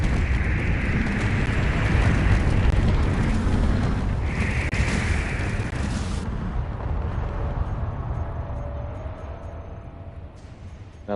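Ships blowing up in a Space Engineers battle between Aero class cruisers on PS5, a long rumbling explosion roar that slowly fades over about eleven seconds with no talking.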